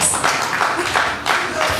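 Press-conference audience in Yaoundé applauding for a musician, a steady mid-loud wash of clapping with a brief dip near the end, mixed with crowd murmur.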